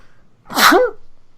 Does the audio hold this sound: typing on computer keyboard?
no